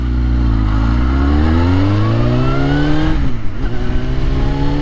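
A Suzuki GSXR1000 sport motorcycle engine screams loudly as it climbs through the revs, briefly drops with a shift, then pulls hard again, close and sustained.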